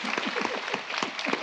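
Brief applause from an audience at a film-school masterclass, a soft patter of clapping with faint voices mixed in, lasting under two seconds.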